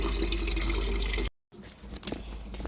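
Running water splashes and pours steadily, cuts off briefly, then resumes more softly with drips and trickling, close by with no talking.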